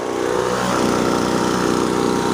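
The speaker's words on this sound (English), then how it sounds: "Sears Craftsman 2-stroke leaf blower is the newer generation model" Sears Craftsman newer-generation 2-stroke leaf blower engine running at a steady buzzing roar, loud and close, holding a constant speed without pauses or voices.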